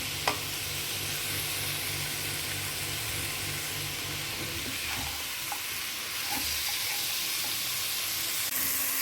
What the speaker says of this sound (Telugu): చిక్కుడుగాయలు మాత్రం బాగా ఫ్రై అవ్వనండి ఫ్రై అయితేనే బాగుంటుంది